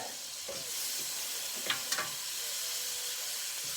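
Caribou meat browning in plenty of grease, a faint steady sizzle and hiss with a few light scraping stirs, quiet and close.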